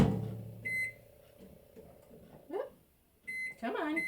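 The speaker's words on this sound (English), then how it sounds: "Come on, little microwave." A microwave oven heats a cup of water, its low steady hum running under brief beeps and short bursts of talk nearby.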